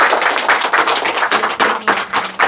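An audience at a deliverance prayer meeting in Gumla, Jharkhand claps to welcome the preacher, a loud, close, dense patter of many hands with rhythmic surges and no speech over it.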